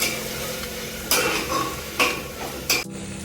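Chili and ginger-garlic paste are stirred into a fried tomato-onion masala in a pan for masala rice: three distinct spatula scrapes ring out over a soft, steady sizzle, close up, with no voices.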